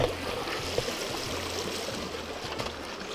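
Creek water flows and trickles steadily beside a swimming hole on a Big South Fork backpacking trip, a close, even babbling rush with no voices.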